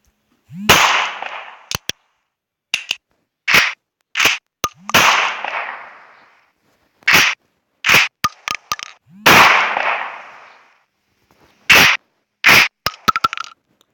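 Pirate gun shots in the iGun Pro mobile game, sharp cracks fired one after another at irregular intervals, some followed by short mechanical clicks, loud and close with silence between.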